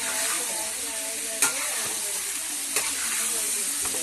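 Chicken 65 frying in a pan, giving a steady loud sizzle with a couple of brief spatula knocks as the pieces are stirred, close by; a voice talks faintly beneath.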